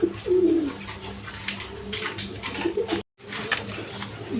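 Pigeons of a coloured gorra rajgolla breed, kept in pairs with chicks at a farm, coo in low repeated rolling calls close by, broken by a brief dropout near the end.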